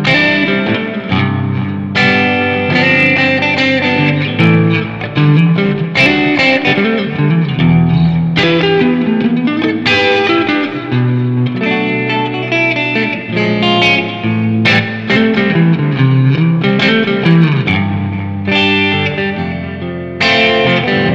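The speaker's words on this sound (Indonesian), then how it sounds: "Ini suara clean sama suara overdrive-nya." A Squier Telecaster electric guitar plays through clean and overdriven tones, with strummed and picked chords ringing out with effects and reverb. Loud and continuous throughout, with no voices.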